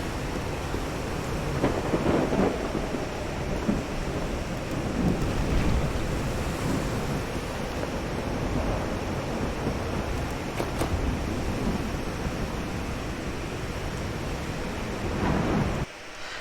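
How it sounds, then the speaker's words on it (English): Waves crash on rocks along a shore in the video game Call of the Sea, a steady, dense roar of surf and wind with a few stronger surges, continuous and fairly loud with no talking. "that's weird hearing the waves crash on the rocks"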